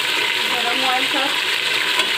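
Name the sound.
beef frying in hot oil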